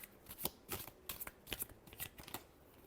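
A deck of tarot cards is shuffled close up in a run of soft, rapid papery flicks and riffles, roughly eight bursts in under three seconds, quiet and with no talking.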